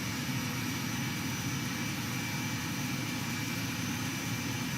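A King Air C90B turboprop engine starting in the X-Plane flight simulator, the propeller now engaged, gives a steady, loud, unbroken roar with a high whine layered over a low rumble. No one speaks.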